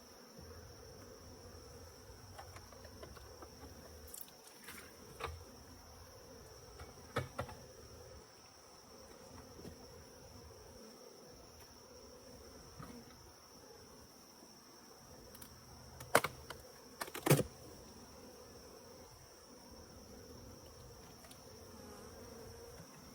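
Bees buzz steadily around beehives in a small colony, a continuous low drone filling the air with a few louder passes close by and occasional handling knocks.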